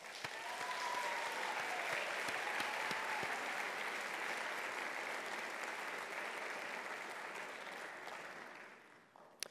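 Sustained applause from an audience at a 2014 technology awards ceremony fills the room evenly, holding steady for several seconds before tapering off near the end.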